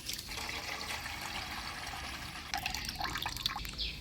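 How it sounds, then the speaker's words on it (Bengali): Water draining off freshly washed rice, a soft, continuous trickle and patter of liquid, faint and close, with a few brighter drips and splashes toward the end. "এবার চালটা আমি ঝরা দিয়ে নিব।"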